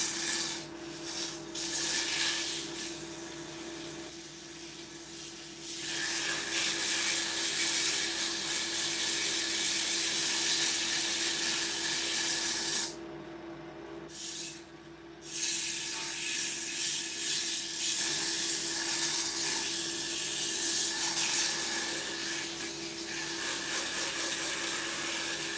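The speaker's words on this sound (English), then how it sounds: "give it a bit of a sanding." Wood being sanded by hand while testing how thin it can go, long repeated rasping strokes close up, with brief pauses between bursts and no talking.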